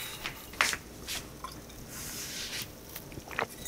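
Water splashes and drips faintly as a drink container is rinsed out, with a few brief sloshes and wet squishes close by in a quiet room.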